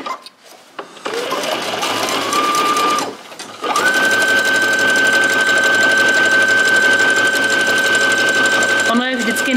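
Close, loud domestic sewing machine stitching a shortened jeans hem, whirring in steady runs with a brief stop around three seconds and rising speed, while someone talks over it.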